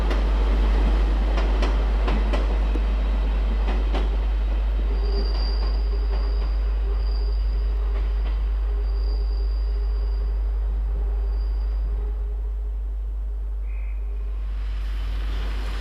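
A Class 158 diesel train in red and cream West Yorkshire PTE livery rolls past with a heavy low rumble, a steady rail squeal and faint rhythmic clicks, loud and continuous before easing off at the end.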